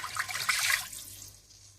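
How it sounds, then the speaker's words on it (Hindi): Two glasses of water poured into frying spices for moong masoor tarka dal, a brief splashing rush that peaks then fades into a faint trickle, close and alone. "थोड़ा सा भूनने के बाद आप इसमें 2 गिलास पानी डाल दें"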